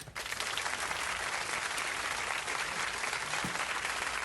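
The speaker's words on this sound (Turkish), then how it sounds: "Evet alkış." Steady, distant-sounding clapping from a small group outdoors at a staircase summit in Belgium, a continuous wash of hands with no talk over it.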